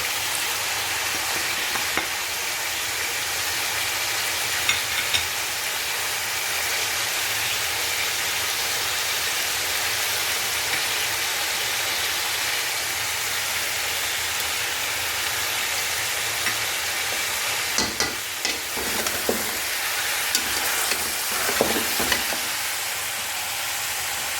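Beef pieces for nihari sizzle as they fry with masala in a pot, a steady hissing crackle with occasional stirring scrapes, close and continuous.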